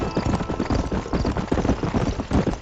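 Horse hooves clip-clop steadily in Red Dead Redemption, a quick even trot that is close and clear with no talk over it.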